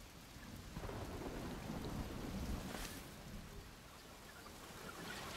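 Rain and rolling thunder in the Western game Desperados 3, a steady downpour with low distant rumbles swelling and fading under the hiss.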